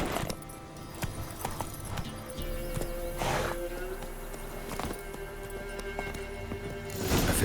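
Horse hooves clip-clop steadily in a video game, with a brief whinny, under continuous game ambience and music while riding along a trail.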